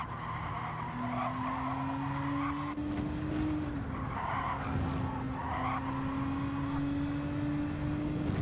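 Tires squeal under hard cornering and late braking in a racing video game on the Deep Forest track: a long, high, sustained screech over the constant roar of a race car engine, with no talking.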